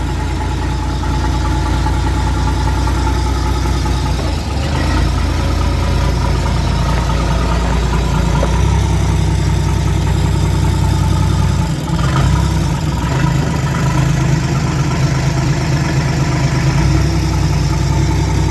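Dozer engine fitted with a grapple running steadily, a loud close diesel rumble with a knocking low throb that holds at a constant throttle throughout, with no voices.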